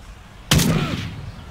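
A single sharp gunshot rings out in a Call of Duty battle royale match set in a Rio favela, loud and close, with a short echoing tail fading afterward.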